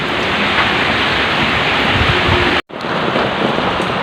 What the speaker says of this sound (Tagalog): Nag-uulan na talaga at malakas ang hangin.